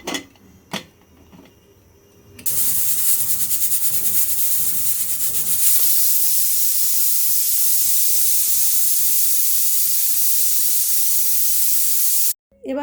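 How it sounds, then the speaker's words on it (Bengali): A pressure cooker holding khichuri lets out a loud, sustained hiss of escaping steam that rises into a bright whistle and runs for about ten seconds before cutting off abruptly, after some earlier clatter. "প্রেশার কুকারের ঢাকনাটা লাগিয়ে 3-4টা সিটি দিয়ে নিব"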